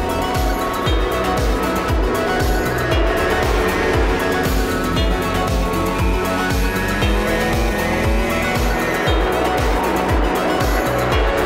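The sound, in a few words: MotoGP racing motorcycles at race start, Assen TT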